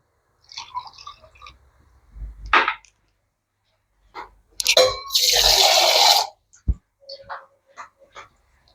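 Water poured from a measuring glass into an uruli cooking pot while making kozhukatta: scattered clinks and short splashes, then one longer rushing pour of about a second, followed by a few brief taps.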